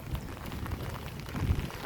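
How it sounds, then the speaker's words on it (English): Rain falls outdoors on a street in Amsterdam, a dense steady patter of drops on surfaces with no voices, slightly swelling toward the end. "it already was raining a little bit less"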